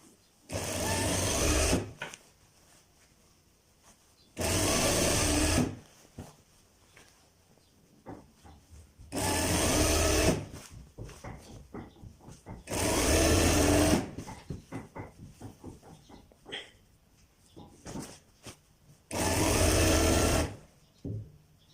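A sewing machine stitches a kalidar kurta in five loud, evenly spaced runs of a few seconds each, with fabric handling and small clicks filling the pauses.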